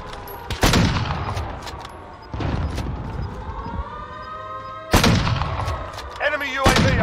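Video game gunfire, heavy booming shots at irregular intervals with long ringing tails, loud and close, amid in-game sound effects and a faint voice.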